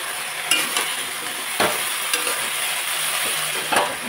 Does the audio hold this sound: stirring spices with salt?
yes